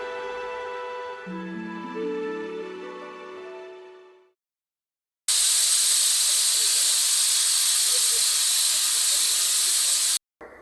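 A pressure cooker holding field beans and water lets out a long, loud tonal whistle that fades away, then after a brief pause bursts into a sustained, harsh hiss of escaping steam lasting several seconds, close by and without talking.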